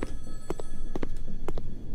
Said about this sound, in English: Someone's ringing the telephone.